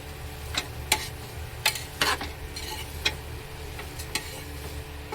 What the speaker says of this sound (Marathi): तर हे पनीरचे क्यूब टाकून झालेले आहेत आपले। हलक्या हाताने हलवून घ्यायचं आहे।